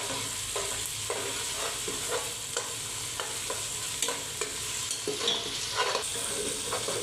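Onions fry in a pan for mutton korma while being stirred: rhythmic scraping strokes, roughly twice a second, ride over a continuous close sizzle. No one talks.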